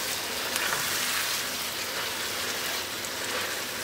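Lamb with yogurt frying over high heat, a steady, close, hissing sizzle that runs evenly throughout with no talking.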